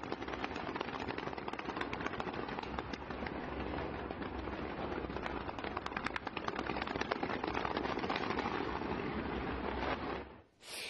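Dense crackling and popping of fireworks at a stadium ceremony in pouring rain, mixed with a steady hiss of the heavy rain, continuous and fairly distant, with no talking.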